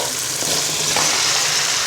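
Potato, cauliflower and bean pieces hit hot oil in a kadai, setting off a loud, steady sizzle of frying that holds at full strength throughout with no talking.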